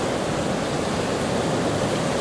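The River Carron at Stonehaven, Scotland, rushes into the sea in a steady, broad wash of flowing water and surf, continuous and fairly close, with no voices or other sounds.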